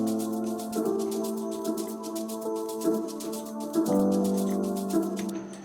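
A pizzicato string sample from Flex, played in FL Studio as part of a soulful deep house track, plucks a steady run of short notes in changing chords, with rhythmic percussion ticking above throughout.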